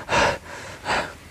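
Heavy panting from an exhausted hiker on a mountain trail, two loud close breaths with a short pause between, alone without talk.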